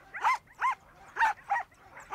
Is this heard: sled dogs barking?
yes